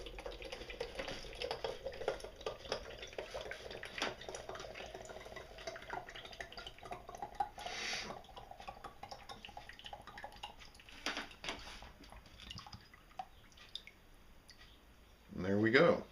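Juice from a young coconut drains out of the turned-over nut, a faint trickling and dripping under quiet background, ending with a louder splashing pour.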